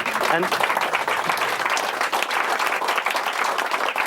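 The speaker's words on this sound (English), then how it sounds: "take the round of applause" Sustained round of applause from a seated audience at a live magic show, dense steady clapping that fills the whole stretch with no break, close and fairly loud.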